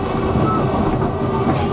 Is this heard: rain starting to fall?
no